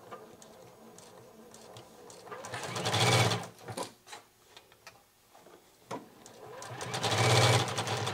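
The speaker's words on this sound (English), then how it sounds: "So let's head back to the sewing machine, and the seam allowance again is 1/4 inch." A sewing machine stitches a 1/4-inch seam on the lining of a triangle pouch, running in two loud bursts of rapid whirring with quieter clicks and handling sounds between them.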